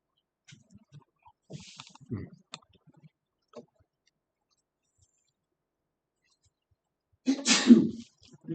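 One person sneezes once, a sharp, close burst near the end of a mostly quiet stretch broken by faint clicks and small noises.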